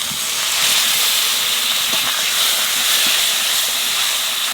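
Steady loud hiss of water with turmeric hitting a hot pan while making Bengali katla kalia, a broad continuous sizzle with no pauses and no voices.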